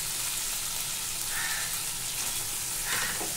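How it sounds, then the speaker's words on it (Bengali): Fish pieces fry in oil in a pan, giving a continuous, even sizzle with faint crackles. Two brief brighter bursts of spitting rise over the steady hiss, and no one speaks. "মাছটাকে ভালো করে কষিয়ে নেব।"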